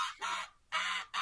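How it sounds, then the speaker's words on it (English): An angry goose in an old goat shed lets out harsh raspy hisses, three forceful bursts in quick succession, close and fairly loud with no talking over them. "Yeah, an angry goose."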